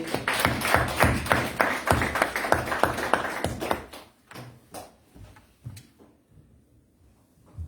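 A church congregation applauds together in dense, loud clapping for about four seconds after a service greeting. A few scattered claps then trail off into quiet.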